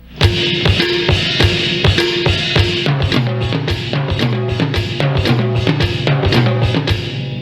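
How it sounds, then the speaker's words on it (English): Drum strokes from the left hand alone travel across a timbale, a 12-inch rack tom, the snare and a 10-inch rack tom in a fast, steady rhythm, close and loud over cymbal wash. "we're going to catch the timbali, the 12-inch rack, the snare, and finish on the 10-inch rack"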